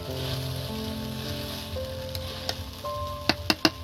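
Diced potatoes hitting a pan of frying rice made from ration rice, a steady loud sizzle and hiss with scraping stir sounds and a few sharp clicks near the end, no talking.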